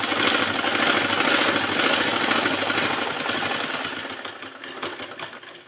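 Sewing machine running steadily while stitching a straight seam half an inch from the top edge of a garment band, a continuous close mechanical whir that eases off slightly toward the end.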